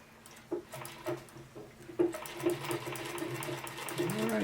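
An Osann fur sewing machine is worked by treadle, giving soft rhythmic clunks about every half second that speed into a steadier mechanical whir and patter, fairly faint and close.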